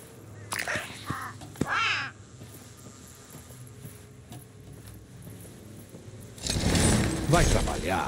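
A crow in the video game Redfall gives harsh caws early on, two distinct calls close together, amid game sounds, then a louder, noisier burst of effects near the end.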